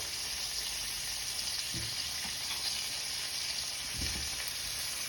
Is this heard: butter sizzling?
yes